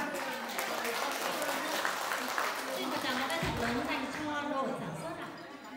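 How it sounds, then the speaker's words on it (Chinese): Warm applause from the audience at a company year-end party, a dense steady clapping throughout, with a faint low hum of voices beneath. "大家以热烈的掌声送给他们"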